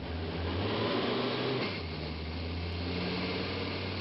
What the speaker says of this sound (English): Now, I'm going to shift into drive and floor the accelerator.